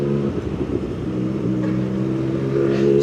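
A Honda Civic with a single overhead cam engine goes by, a mid-pitched engine hum rising a little as it nears, heard without talk.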